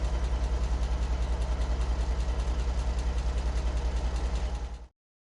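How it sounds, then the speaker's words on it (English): A truck engine in Alaskan Road Truckers idles with a steady, low, throbbing rumble, loud and close, then cuts off abruptly near the end, with no voices. "So down, start the engine."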